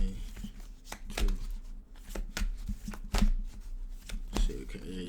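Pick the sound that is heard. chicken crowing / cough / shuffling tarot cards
shuffling tarot cards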